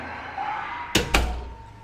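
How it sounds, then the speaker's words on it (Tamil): A door in a Porotherm brick house swings shut with two close, solid thuds less than a quarter second apart, set against a quiet room with faint background hum. "டோர் க்ளோஸ் பண்ணும்போது"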